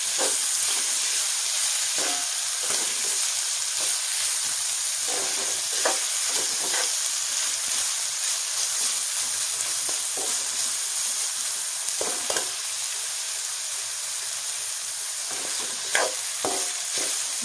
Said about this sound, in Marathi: आपल्याला हे छान असं कांद्याला लालसर कलर यूज परतून घ्यायचं आहे